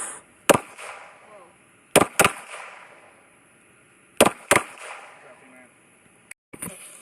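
Handgun shots at an outdoor shooting range: sharp, loud reports fired in pairs and singles, with echoing decays between, plus faint voices in the background.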